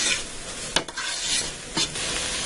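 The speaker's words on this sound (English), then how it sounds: "I'm going to fry this for a few more seconds just to give this garlic a chance to start getting cooked." Garlic and meat fry in a pan for spaghetti meat sauce, a steady close sizzle with two brief stirring scrapes over it.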